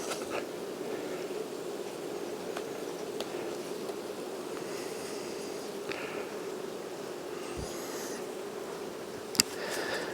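Honey bees drone steadily around an open hive during an inspection of the brood frames, a continuous close buzz with occasional single bees flying past, alone without talk.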